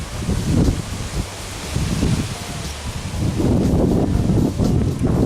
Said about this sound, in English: Sorry again about the wind, we are in Ireland.